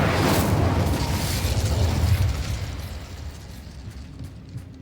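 An Incendio fire spell cast in Hogwarts Legacy bursts out with a loud, broad explosive whoosh and rumble that holds for about two seconds, then fades into a softer crackling tail.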